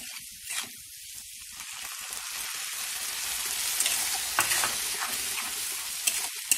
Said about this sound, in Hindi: और इसको 10 मिनट तक भूनेंगे।